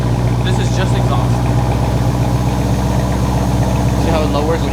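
A Corsa car's exhaust idles loudly and steadily close by, a deep continuous rumble with a low pulsing throb; people talk faintly in the background.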